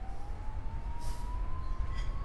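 A distant siren wails with a single slowly rising tone over low traffic rumble at the opening of a diner scene, faint and steady, with brief bursts of noise.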